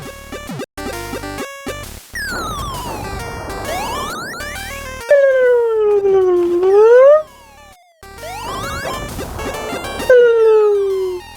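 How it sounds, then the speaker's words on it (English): Wario Blast: Featuring Bomberman! enemy warping between teleport points, heard as bright electronic tones sliding up and down in pitch in several loud bursts, with brief cuts of silence between them. "That's the sound of him teleporting through these warps"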